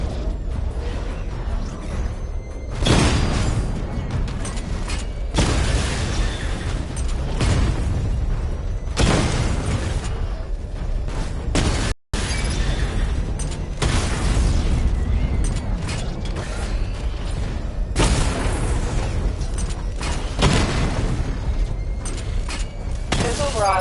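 Batmobile secondary weapon barrage from the game Batman Arkham Knight, a series of heavy booming bursts at intervals over loud continuous mechanical engine noise, with a brief cut midway.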